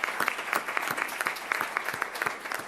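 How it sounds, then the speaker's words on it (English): An audience at a Palm Beach County gathering claps for school principals, a close, busy patter of many hands with sharp individual claps standing out, moderately loud and sustained throughout. "Let's give them a round of applause, absolutely."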